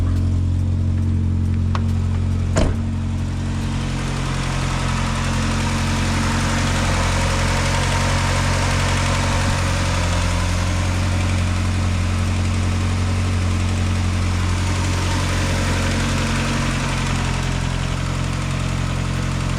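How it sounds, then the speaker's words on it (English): A Mk2 car engine idles just after an oil change with a Liqui Moly treatment, running as a smooth, even low hum with one brief sharp click early on, close and steady with no talking. "start it up, let it run a little bit, make sure everything's good, check for leaks"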